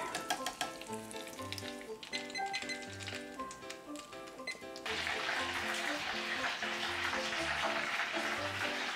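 Steady, dense sizzling of Dutch beef croquettes deep frying in hot oil, fairly loud and close, with a rhythmic musical backing running throughout.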